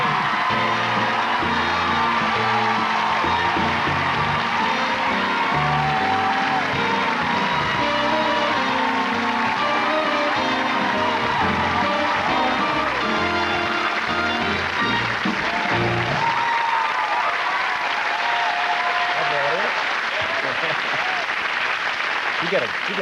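A television studio audience applauds and cheers loudly for Barry Manilow, sustained dense clapping with whoops that drops off near the end, leaving scattered claps as a voice speaks.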